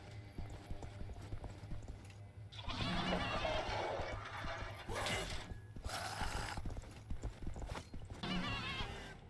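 Clattering mechanical clicks and ratcheting bursts come in and out over a low steady hum, with short hoof-like knocks and a brief animal cry as a demon goat spawns in Sker Ritual.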